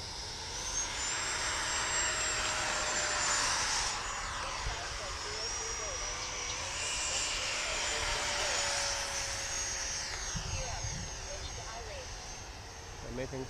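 A Freewing F-22 RC model jet flies overhead with a steady, broad whooshing whine that swells and fades slightly as it passes, while people talk nearby.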